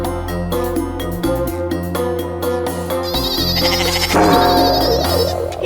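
A goat bleats against loud, busy television-serial background music during a scene of a goat being delivered, its wavering cries rising over the dense score toward the end.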